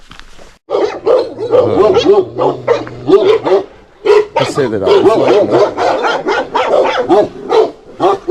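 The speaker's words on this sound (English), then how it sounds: "them dogs look pretty scary, man." Dogs bark and yip in short repeated bursts close by, mixed with talking throughout on a hike across Gran Canaria.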